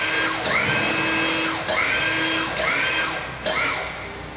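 Hydraulic cylinders in a synchronized lift system advance under pump pressure, a loud steady mechanical whine and hum with four regularly spaced surges and clunks as the pump cycles.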